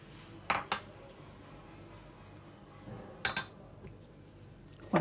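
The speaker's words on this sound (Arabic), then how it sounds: "ونقلب بقى الزبادي مع الدقيق" A spoon stirs yogurt into flour in a bowl for a quick pan pizza dough, giving a few sharp clinks and scrapes against the bowl, close and fairly quiet with pauses between strokes.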